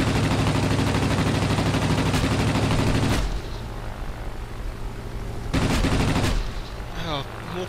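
Rapid aircraft machine-gun fire from a tier 1 P-12 biplane in the World of Warplanes flight game, loud, dense bursts rattling continuously for about three seconds, a pause with engine drone, then another short burst.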